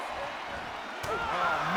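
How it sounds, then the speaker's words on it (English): A wrestler slammed to the mat in the WWE 2K23 video game gives one sharp impact, heard close partway through, amid ongoing crowd noise and game sound. "Michaels knocking Bret to the mat."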